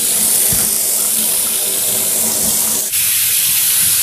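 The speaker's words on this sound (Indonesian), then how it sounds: "Aku siapin dulu air panasnya." Hot water runs steadily from a kitchen tap, filling a sink or basin to soak very greasy items, a continuous close splashing rush with a brief dip near the end.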